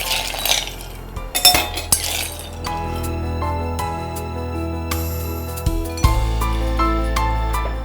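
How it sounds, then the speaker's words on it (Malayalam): Ice cubes clink and rattle into a glass while grape soda is prepared in a home kitchen, with a few sharp bright knocks in the opening two seconds before a steadier tonal background takes over. "അപ്പോൾ ഇനി ഐസ് ക്യൂബ്സ്"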